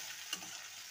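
Tomato and onion are stirred in a frying pan, giving a soft, steady hiss with one brief scrape of the spoon near the middle, faint and short with no talking.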